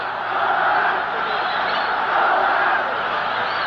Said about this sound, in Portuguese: A torcida gritando Colorado